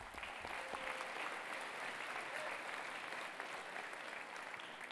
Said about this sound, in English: Another round of applause for Gus, please.